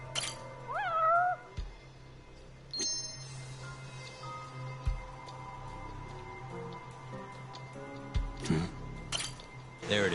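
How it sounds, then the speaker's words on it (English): A cat meows in short rising calls near the start, with a few faint clinks and scattered thumps and a low steady hum behind it. "Hey. It's a kitty."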